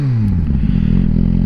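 A Suzuki GSX-R1000R fitted with an aftermarket carbon exhaust can settles from a blip to a deep, throbbing idle, loud and close, with a burbling uneven pulse and no talk over it.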